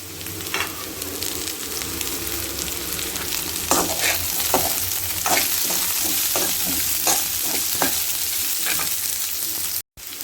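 Potatoes, carrots and beans sizzle as they fry in a pan, a steady close hiss with intermittent scraping stirs, no voices.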